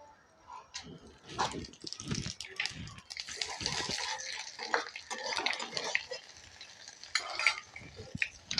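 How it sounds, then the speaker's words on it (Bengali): Dried red chillies and panch phoron crackle in hot oil for prawns with taro greens, a soft, close sizzle with light stirring and scraping throughout. "ওই তেলের মধ্যে এখন দিয়ে দেবো দুটো শুকনো লঙ্কা, একটু পাঁচফোড়ন"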